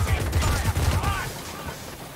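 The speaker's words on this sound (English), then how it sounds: "Is there fireworks going off in the distance?" Distant fireworks crackle and pop in a rapid burst in the game Warhammer: Vermintide 2, fading into softer ambient noise.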